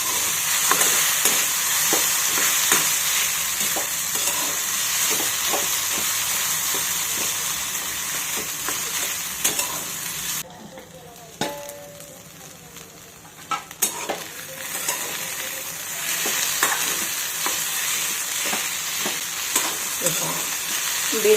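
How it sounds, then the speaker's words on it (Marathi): Tender okra fries with a steady close crackling sizzle in a pan, and intermittent stirring scrapes run through it. The sizzle drops off briefly midway, as when the lid is lifted or the pan is moved, then returns. "हे पहा, भेंडी शिजताना याच्यामध्ये असा चुरचुर आवाज येतो"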